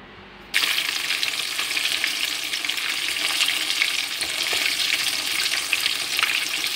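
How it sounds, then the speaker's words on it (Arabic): Chicken pieces frying in hot oil in a pan, a loud, dense, steady sizzle that bursts in abruptly after a moment of quiet and keeps crackling without any talk. "وكنحطو في المقله كيتقلى الصراحه"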